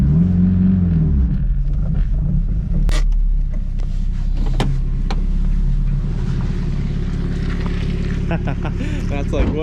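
A turbo Honda S2000 climbs a muddy lane, its engine droning low and steady up close with occasional sharp clunks and knocks, while people talk inside the car.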